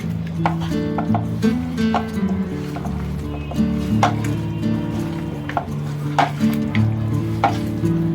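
Ginger garlic paste and spices frying in a pot for a village chicken curry, a steady sizzle broken by regular scraping clinks of a spoon stirring, with faint speech in the background.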